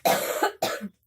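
A woman coughs twice in quick succession, two close, sharp bursts followed by silence.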